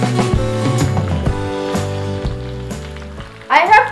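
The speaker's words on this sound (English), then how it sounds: "frying time is about 3 to 5 minutes and it's ready to take out" Chicken 65 sizzles as it fries in hot oil, a steady crackle running beneath louder background music, with a brief bright burst of spattering near the end.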